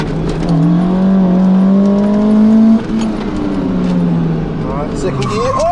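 Toyota MR2 sports car driven hard on a race track, its engine droning loud and steady up close, holding pitch, then dropping off with a gear change before climbing again, with a voice speaking over it.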